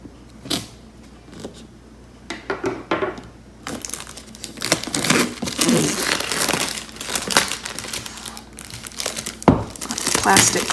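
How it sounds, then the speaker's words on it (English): Plastic film being peeled and crinkled off a 2018 MacBook Pro box: a few sharp crackles at first, then sustained close crinkling and tearing with rough bursts, with some talk. "Plastic coming off."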